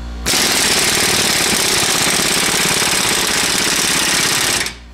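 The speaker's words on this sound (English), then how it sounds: "impact wrench, and I want to see if I can get this thing to turn at all" An impact wrench hammers at a seized ball joint nut on a 2010 Rogue in one loud, continuous rattling burst of about four and a half seconds, up close, then stops abruptly.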